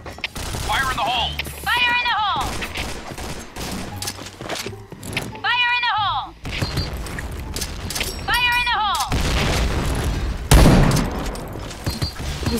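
Bombs and gunfire burst in a Point Blank first-person shooter match, with repeated blasts and shots, a loud explosion near the end, and players talking throughout.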